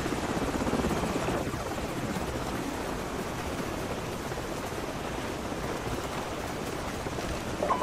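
Enemy helicopters in the Call of Duty Modern Warfare video game give a loud, steady rotor roar with a dense wash of noise that runs unbroken from start to finish.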